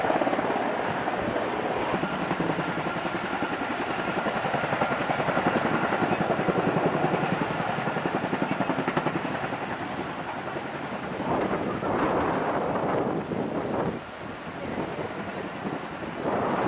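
A firefighting helicopter hovers low over a forest fire in Datça, its rotor giving a loud, steady, continuous roar through the whole stretch, mixed with wind buffeting the microphone.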